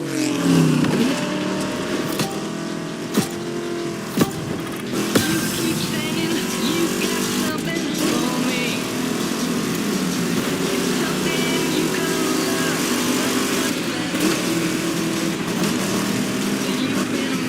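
Vintage car engines in the video game The Crew Motorfest rev and drone continuously for several seconds, loud and close, with a voice talking over them.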